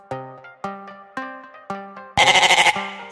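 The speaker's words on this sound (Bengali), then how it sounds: "ওই দেখো একটা ছাগল" A goat bleating close by in a run of short wavering calls, then one louder, harsher bleat at the end.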